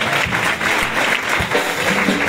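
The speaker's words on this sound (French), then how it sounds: "Acclamez quand même" A church congregation applauds loudly at an anniversary celebration, with dense, continuous clapping from many hands filling the room and a few louder claps standing out.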